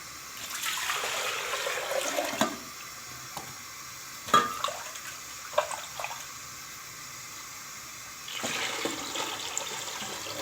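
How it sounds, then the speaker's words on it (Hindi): Water pours into a spice paste for kadhi, a running splash heard in a few separate bursts with brief clatters between them and quiet gaps. "अब इतना ही हम इसमें पानी डाल देते हैं।"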